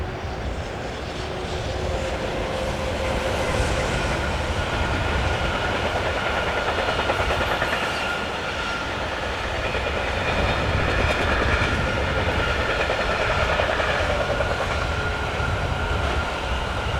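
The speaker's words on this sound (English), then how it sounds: "(26078) powers the last train that we see from this location." A train hauled by locomotive 26078 rolls past in France's Rhône Valley near Livron-sur-Rhône, a loud, sustained roar of wheels and wagons that holds steady for the whole span.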